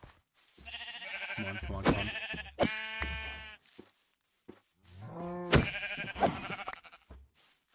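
Several loud, close sheep bleats in a game, separated by short gaps, while a person urges something along between them.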